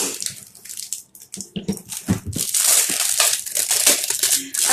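Plastic wrapping crinkles and crackles loudly as it is pulled off an item, in bursts that build into a dense, continuous rustle close by.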